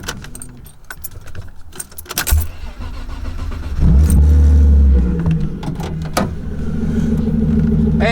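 A car engine starts after a valve cover gasket repair: keys jangle, the starter cranks, then the engine catches with a loud low roar, briefly revs and settles into a steady close idle.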